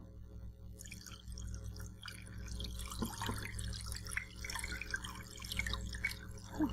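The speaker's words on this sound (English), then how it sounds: "So let's get the water poured in there." Water poured into a container near a model polar ice cap made of frozen water, heard as a soft, continuous trickle and splash with small drips, faint and close, with no talking.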